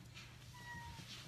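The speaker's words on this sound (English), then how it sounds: "Meow. Oh, it came to say hello." A kitten gives a single soft, faint meow indoors, short and quiet against a low background hum.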